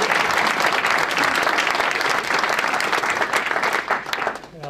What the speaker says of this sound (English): The applause today is not for me.